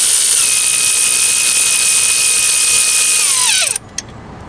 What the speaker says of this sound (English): just want to quickly show you my ratchet technique